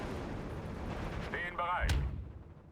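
Artillery fire in the 1944 Eastern Front war game Steel Division 2, a muffled cannon blast landing near the end amid battlefield rumble, with a whooshing tonal sweep just before.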